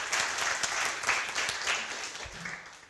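Applause from an audience at a citizen dialogue on legislative challenges for caregivers in Chile, a short burst of moderately loud, dense clapping that fades slightly toward the end.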